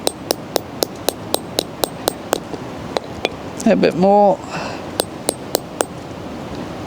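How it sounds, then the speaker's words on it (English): A hammer taps a grommet onto an FPV radio control wing in a steady series of sharp, evenly spaced knocks. A person speaks briefly in the middle, and the tapping then resumes. "do a little hammer tap"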